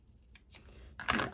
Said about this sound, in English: I'm just going to cut by hand on that